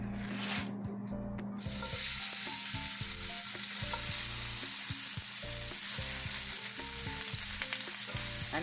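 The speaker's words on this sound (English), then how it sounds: "So I'm gonna saute the vegetable now." Seasoned vegetables sauté in oil in a pot with a constant, close, strong hiss and crackle, while a steady tonal melody runs underneath the whole time.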